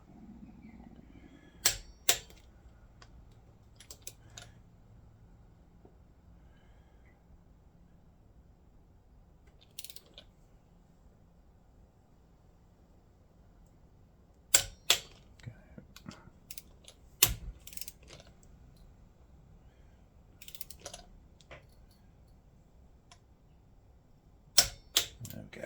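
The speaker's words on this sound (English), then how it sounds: "So we will now torque those up to 10 Newton meters, as we have with the others." Torque wrench tightening bolts to 10 newton meters on a Yamaha SRX600 motorcycle in a quiet workshop, giving a handful of sharp, separate clicks spaced several seconds apart over low background hum.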